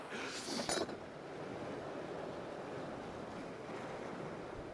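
Wind gusts roar across a UK shore during a fishing session, with breaking surf beneath, a loud buffeting burst at the start, then a steady rushing blow.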